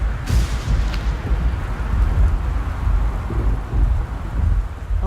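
Stormy weather in the Gone Home video game: steady rain and rumbling thunder booms fill the scene, loud and continuous, with a sharp crack near the start.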